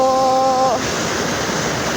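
A stream swollen by heavy overnight rain rushes steadily, a loud, continuous wash of water close by, with a brief faint tone at the start.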